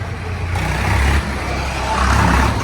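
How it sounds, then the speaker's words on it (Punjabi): Diesel engine of a 2013 Mahindra 575 DI double-clutch PTO tractor in good condition, running at a tractor market in Moga, Punjab: a steady, fairly loud low rumble that swells slightly twice, with no talk. "ਮਹਿੰਦਰਾ 575 ਡੀ ਹੈ ਸੀ CR PTO tractor double clutch tractor ਹੈ ਜੀ"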